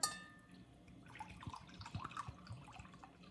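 White vinegar being poured into a pan, a faint trickling and splashing liquid sound with small drips, quiet and close.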